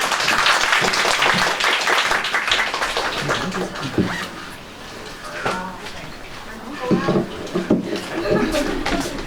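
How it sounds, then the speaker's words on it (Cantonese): An audience claps for a speaker being introduced at a seminar-style panel talk at a book fair. The dense applause lasts about four seconds, then thins out as a person talks over the last scattered claps. "嗰啲掌聲唔係好熱烈咯"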